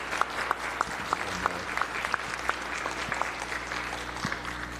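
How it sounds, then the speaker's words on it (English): Light applause from a modest group on the Hawaii Senate floor, scattered claps pattering steadily for several seconds at moderate distance. "If we could give them a round of applause and welcome to the Senate."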